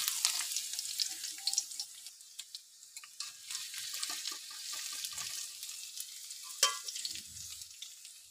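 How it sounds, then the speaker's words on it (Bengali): Chopped garlic hits hot oil in a pan with fried potatoes and bay leaf, crackling and sizzling up close, with scattered stirring scrapes and sharper pops breaking through the hiss. "এখন এর মধ্যে সবার প্রথমে যেটা দিয়ে দেবো রসুন কুচি।"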